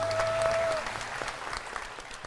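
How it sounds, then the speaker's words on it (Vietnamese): Applause from a Vietnamese dating-show studio audience, moderately loud and steady at first, then thinning into fainter scattered claps. "Lời chào nghe có đã, xin quý vị vỗ tay."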